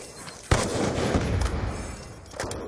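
Gunfire in a shooter video game: a sharp, loud shot opens into a dense, rumbling burst of fire that fades, then a second crack lands near the end, with no talking.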